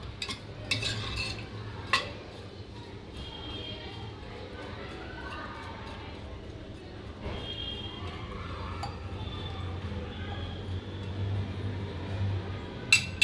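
A drumstick and peanut curry is stirred together with added water, giving a soft continuous scrape and swirl with a few light metallic clinks over a steady low background hum.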